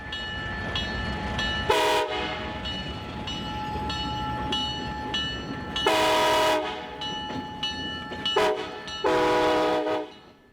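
Alco diesel locomotives on the Arkansas & Missouri Railroad in the Ozarks, including number 44, a 1965 C420, chug past with a steady engine rumble, punctuated by four loud horn blasts of varying length.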